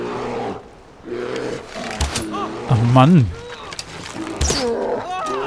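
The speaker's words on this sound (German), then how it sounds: "Oh, Bär." A bear roars in the video game Far Cry 4, a loud, rising growl under a man's spoken remarks, with game sounds and other roars around it.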